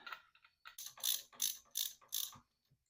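Close ratchet clicks come in five quick, evenly spaced bursts as a bolt is snugged down on a Vulcan 750 motorcycle engine during stator replacement, crisp and metallic against near silence.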